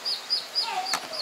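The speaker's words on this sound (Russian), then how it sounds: "Вон цыплята маленькие, и утята там, и гусята." Small chicks give repeated high peeping chirps with a few soft clucks beneath them, close and fairly loud, in a bird park enclosure on Mauritius.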